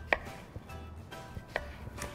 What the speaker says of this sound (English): And now I'm gonna cut this into 1-inch pieces.